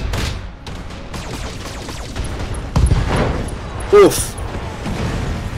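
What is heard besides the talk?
SRM missile explosions in BattleTech video game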